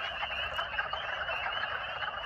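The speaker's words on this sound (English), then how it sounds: "Here's a wood frog." Wood frogs calling in early spring, a dense continuous chorus of croaks layered together, steady and fairly loud with no talking over it.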